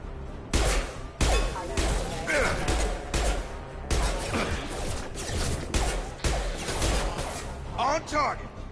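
Rapid bursts of gunfire in the sci-fi shooter Mass Effect 2, loud, repeated volleys with short gaps and crashing impacts, with voices briefly heard between shots.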